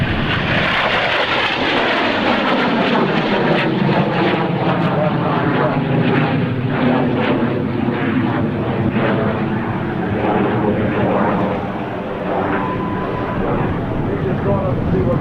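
A jet aircraft roars loud and continuous at the 2001 NAES Lakehurst airshow, its engine pitch slowly shifting as it passes. An announcer's voice can be heard beneath the noise.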